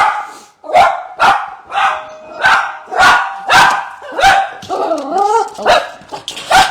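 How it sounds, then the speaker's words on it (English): A dog barks repeatedly at a delivery, loud and close, with about ten sharp barks in an uneven rhythm and a whining yelp partway through. "I can hear a delivery, and the dog is going to go a little bit nuts here for a minute"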